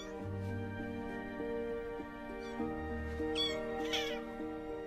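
A young kitten meows repeatedly over a soft harmonic background tone, with a few thin high cries breaking through near the end, close and clear without speech.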